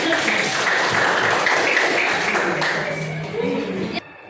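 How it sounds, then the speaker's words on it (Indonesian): A classroom of students applauds during a Catholic religious education lesson, scattered close hand claps and taps building into group clapping that tapers off, then stops abruptly near the end. "Oke, kita berikan tepuk tangan."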